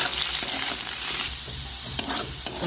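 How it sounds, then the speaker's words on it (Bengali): Potatoes and pointed gourd fry with salt in a pan, a steady close sizzle broken by scraping stirs of a spatula, with no talk. "ভালো করে নেড়ে এবার ভাজতে হবে।"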